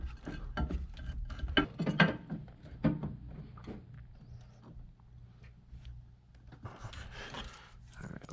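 Large Allen bolts being tightened to mount a battery tray in a Honda Fit/Jazz GK5 engine bay: a series of close metallic clicks and knocks, denser at the start and again near the end, over a low steady hum.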